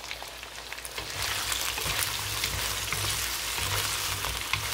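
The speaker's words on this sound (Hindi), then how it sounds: "तो बिल्कुल लो हीट पे हम कुक करेंगे बीन्स को ताकि अच्छे से कुक हो जाएं।" Beans and potatoes cooking in a pan on low heat give a steady, close sizzle with soft crackles and a few light stirring scrapes, no voices.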